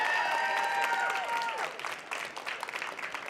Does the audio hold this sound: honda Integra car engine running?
no